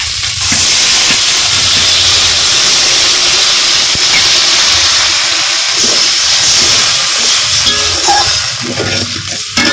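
Water poured onto hot spiced potatoes in a pan for a fish curry, a loud, steady hissing sizzle with bursts of steam that carries on for about ten seconds, fading slightly near the end.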